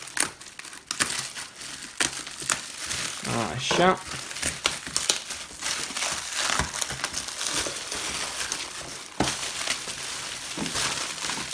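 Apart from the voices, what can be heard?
packaging being cut and torn open to remove a keyboard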